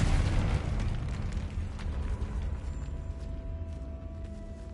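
A Confringo fire spell blasts in Hogwarts Legacy, a loud booming explosion that hits at once and fades into a long rumbling tail, with a steady tone lingering underneath.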